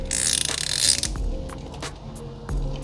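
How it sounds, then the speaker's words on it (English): An ICON locking flex head ratchet from Harbor Freight clicks as it turns, a close, loud burst of rapid ratcheting followed by a few separate clicks and clunks, with no voice over it. "you're ratcheting in there"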